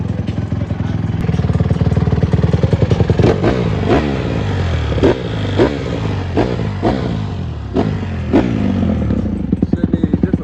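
A Honda CRF150R dirt bike engine runs loud and close, revving in repeated sharp bursts over a steady rattling idle, with no natural start, no choke fitted.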